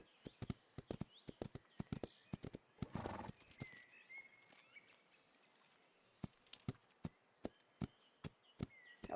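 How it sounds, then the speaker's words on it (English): Hooves clop in sharp, uneven bursts from a horse in a riding video game, with a brief whinny-like rustle partway through, then scattered hoofbeats returning after a pause; no voices. "Take it easy with the gallop as your horse doesn't have a lot of endurance just yet."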